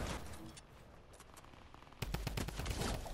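SMG fire in Fortnite, a faint burst of rapid shots growing louder and denser after the first two seconds under game ambience, with no one talking.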